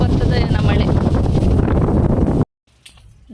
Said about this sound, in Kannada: ಸೌಂಡ್ ಕೇಳ್ತಾ ಇರ್ಬೋದು ನಿಮಗೂ. ಗಾಳಿ ಫುಲ್ ಐತೆ, ಹಂಗೆ ಗುಡುತ್ತಾನೂ ಐತೆ.